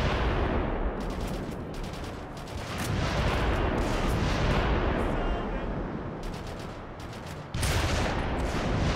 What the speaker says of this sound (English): We may as well destroy the anti-air because it's super loud and annoying.